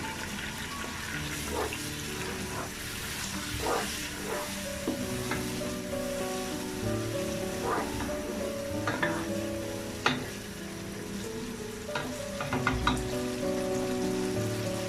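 Cumin and chili powder spices stirred and fried in hot oil, a continuous close sizzle broken by repeated scraping strokes of a spoon against the pan.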